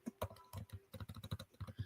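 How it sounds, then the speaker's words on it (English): Computer keyboard typing during a live Yankees vs Pirates play-by-play stream: a quick run of close, crisp key clicks in an uneven rhythm, with no voices. "I'm just typing away here just real quick"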